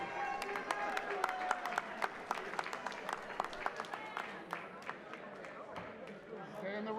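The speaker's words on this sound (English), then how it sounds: "how about a big round of applause for Tevin Farmer" A boxing crowd applauds after a fight, scattered sharp claps over a busy arena murmur, moderately distant, with talk mixed in.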